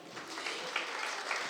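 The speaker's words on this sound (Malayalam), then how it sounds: "നിങ്ങൾക്ക് തന്നെ ഒരു കയ്യടി കൊടുക്കേണ്ടതാണ്" Short burst of audience applause at an Onam program held by a Thiruvalla UAE expatriate association, a dense, moderately distant wash of clapping with no talk over it.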